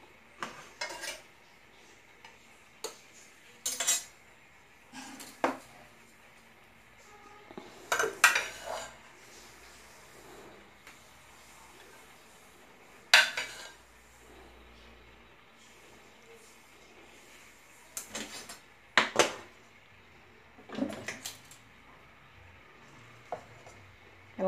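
Cutlery and dishes clatter while a plate of food is prepared in a home kitchen, with sharp scattered clinks and scrapes spaced irregularly between quiet pauses.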